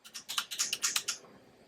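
Rapid keystrokes on a mechanical keyboard fitted with dampened PBT keycaps, about ten close, evenly spaced clacks in a quick burst before falling silent.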